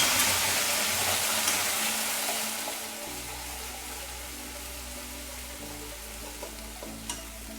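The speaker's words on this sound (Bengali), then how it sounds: "আমাদের তেলটা গরম হয়ে গেছে। এবার এতে আমরা শুকনো লঙ্কার গুঁড়ো দিয়ে দিচ্ছি।" Dried chili powder dropped into hot oil for a black mutton curry sizzles loudly at first, then settles into a softer, steady frying hiss with a few faint clinks.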